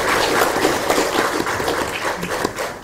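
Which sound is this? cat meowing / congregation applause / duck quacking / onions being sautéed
congregation applause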